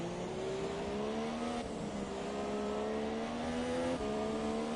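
An AI-driven Formula 1 car in F1 2017 on the China circuit accelerates hard out of a corner, its high-pitched engine whine climbing steadily through the gears with brief dips at each upshift, continuous and fairly faint.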